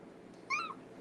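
A very vocal cat gives one short, clear meow, rising then falling, against quiet room background.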